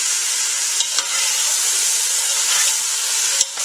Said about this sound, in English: We're now going to add in here the acorn squash.